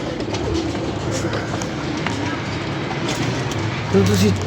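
Pigeons coo in a loft, their soft repeated calls running faintly under near, continuous talk, with a louder burst of cooing near the end.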